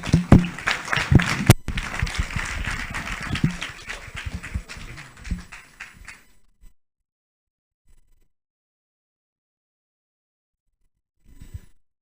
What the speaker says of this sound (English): Can we clap for him once more?